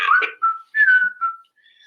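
A person whistles a short, clear tune of several sliding notes, close and loud, with brief pauses between phrases and no talking.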